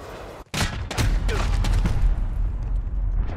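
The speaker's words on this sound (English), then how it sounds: "Allied cruise missile launched." Cruise missile strike explosions in Call of Duty: Modern Warfare multiplayer: a brief silence, then a rapid cluster of sharp, loud blasts and booms that settle into a sustained rumbling roar.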